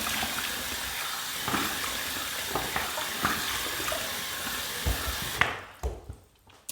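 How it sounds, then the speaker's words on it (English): Water splashes and drips from a sink or tap as a face is wetted before shaving, a steady close running wash with occasional knocks, cutting off near the end to a few final drips and bumps. "Let's wet the face and let's get to the shave."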